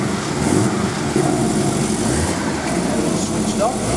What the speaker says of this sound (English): And you can hear that lovely, lovely sports exhaust system.